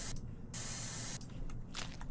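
A spray can hisses in the horror video game Erie, in two bursts: a long sustained spray followed by a shorter one that trails off. The sounds are close and loud over a low background hum.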